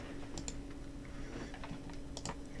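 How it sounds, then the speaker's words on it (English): Quiet, steady typing on a computer keyboard, a soft run of light key clicks with a few sharper taps, with no voices. "I'm a really fast typer."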